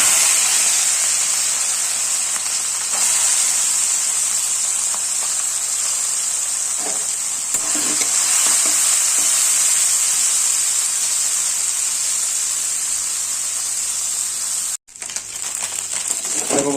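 Oil sizzles and crackles steadily as small freshwater fish fry, a constant bright hiss with occasional soft clinks and one abrupt cut near the end.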